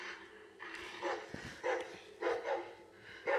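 A dog gives several short yips and barks in a loose irregular series in the game The Walking Dead: The Final Season, fairly close and moderately loud.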